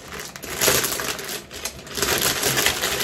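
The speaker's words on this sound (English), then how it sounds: "And let's open to see what the envelope" A paper envelope from a bag organizer package is torn and opened up close, producing crinkling, rustling paper sounds with a few sharper tearing bursts, fairly quiet and steady throughout.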